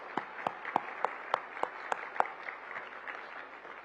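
Summit audience at a hospitality and tourism event applauding, heard as a string of sharp, evenly spaced claps over a soft wash of scattered clapping, fairly quiet and distant.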